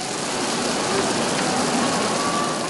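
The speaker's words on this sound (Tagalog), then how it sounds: "Hindi rin kalakasan ng ulan sa bahaging ito ng Barangka sa Marikina." Light rain falling steadily over Barangka in Marikina, a continuous even hiss of drops with no breaks and a faint rumble beneath, close and moderately loud.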